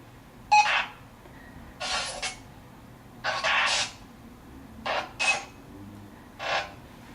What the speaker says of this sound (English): I don't know why they insert noises like beeps and stuff in this